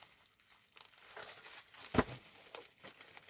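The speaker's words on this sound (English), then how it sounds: "once we get through the bubble wrap." Bubble wrap being pulled and crinkled off a package containing vintage boxed wrestling action figures: soft rustling and crinkling plastic rising in intensity, with one sharp pop or crackle near the middle, close and quiet.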